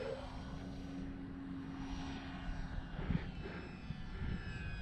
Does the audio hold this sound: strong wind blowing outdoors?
yes